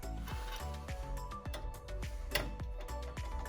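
Small screws are driven into a PC case to secure a motherboard, giving a steady run of light, evenly spaced mechanical ticks and clicks, close and alone.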